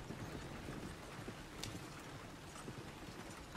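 Horse hooves clip-clop steadily on a road in the video game Red Dead Redemption 2, a faint, quiet rhythm of soft footfalls with light ambient background and no talk.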